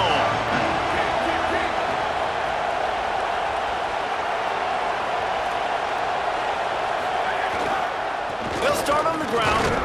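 A stadium crowd in EA Sports College Football 27 roars as a steady, broad wash of cheering beneath a commentator's voice, with a sharper burst of noise near the end.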